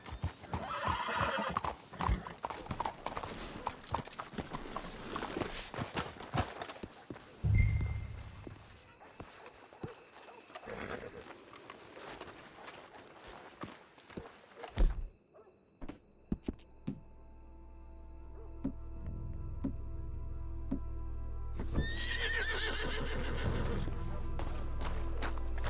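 Video game horses in Red Dead Redemption 2 whinny and clip-clop along, with hoofbeats and scuffling up front, then a low rumbling drone builds and another whinny sounds near the end.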